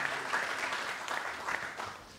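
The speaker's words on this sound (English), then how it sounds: "we want to have a round of applause for Margaret Ludin Akoy" Applause from a book launch audience honouring an absent contributor, a steady dense patter of many hands clapping together at moderate level, with faint talk underneath.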